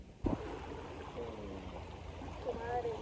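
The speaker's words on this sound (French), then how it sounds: "On se trouve actuellement sur les rives de la rivière de Magdalena" The Magdalena River's current runs along its banks in Colombia, a soft steady wash of moving water heard close by after one brief knock, with a faint voice low in the mix.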